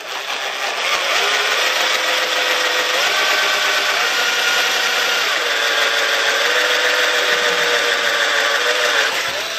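A power drill bores a hole through an RC car body shell for an LED, a loud close whining motor running steadily for several seconds with slight pitch shifts, no talk.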